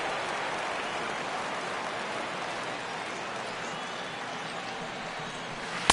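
Steady rain hisses down over a ballpark in a baseball video game, an even, unbroken wash of noise with a faint crowd murmur beneath and a sharp click right at the end.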